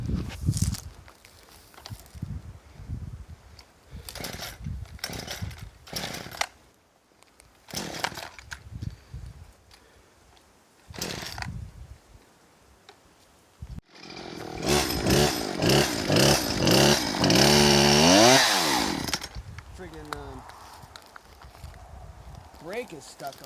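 A 1968 Ford 2000 tractor engine starts up and runs loudly for several seconds with a rough, uneven roar, after scattered knocks and clatter, with people talking nearby.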